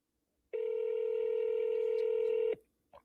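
A single telephone keypad tone sounds on speakerphone, a steady beep of about two seconds that cuts off cleanly in a quiet room.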